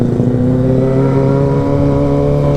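A Kawasaki ZX-25RR motorcycle's engine idles loud and close in a smooth, steady hum that barely changes, with no talking over it.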